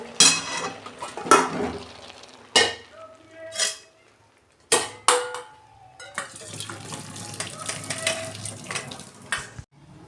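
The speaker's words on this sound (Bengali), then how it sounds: "আমি জলটা ঝাড়িয়ে নেব" Water is drained from a pot of boiled cabbage. Loud clatters of pot and lid come in separate bursts with pauses between them, then a sustained rushing pour runs for several seconds, close by.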